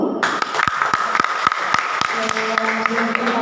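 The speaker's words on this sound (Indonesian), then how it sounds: "tepuk tangan dulu" Audience applause at the Aceh 2021 student legal awareness ambassador competition, a steady wash of clapping with distinct sharp claps standing out, with faint voices and tonal background sound underneath.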